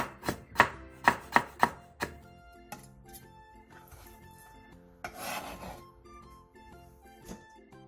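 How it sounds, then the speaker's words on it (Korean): A knife thinly slicing pickled old cucumber (nogak jangajji) on a cutting board for a Korean side dish, with a quick run of five or six crisp, close chops followed by softer scraping and handling sounds. "노각 장아찌 2개를 얇게 채 썰어 주세요."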